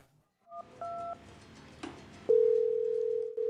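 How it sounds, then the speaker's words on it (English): Telephone tones on a call: a few short dialing beeps, then a steady loud dial tone that holds for over a second, with no talk. "The call is ringing."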